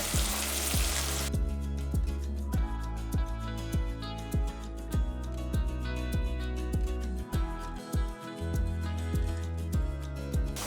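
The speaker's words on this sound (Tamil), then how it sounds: "இந்த அளவுக்கு முட்டை வந்து நல்லா பொடி மாஸ் மாதிரி நல்லா சூப்பராக நல்லா எண்ணெயிலேயே நல்லா பொரிஞ்சிருச்சு" Eggs fry in hot oil for an egg masala gravy, a continuous close crackling sizzle with a steady rhythmic stirring or scraping pulse running through it.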